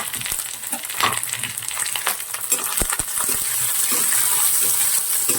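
Onions tipped into a hot pan with chilies and stirred for a pumpkin fry, giving a steady close sizzle with scraping spoon strokes and clinks, the frying growing denser toward the end.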